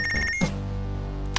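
Electronic phone ring in the Punch Club video game, a short ringing tone that cuts off and then gives a brief further chirp, fairly quiet and with no voices.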